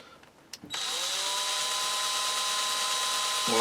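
A power drill spins up and runs steadily into an old trowel being rebuilt, giving a continuous high whine at close range after a few brief clicks.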